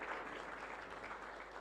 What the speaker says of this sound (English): Another round of applause for Ambassador.